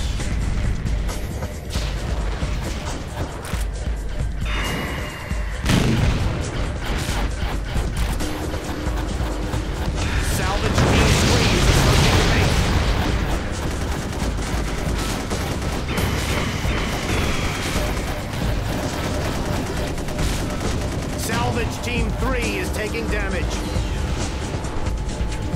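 Gunfire and explosions in the Gun Metal video game form a continuous loud barrage of rapid shots and heavy crashes, swelling into a bigger blast midway, with a voice talking over the battle at times.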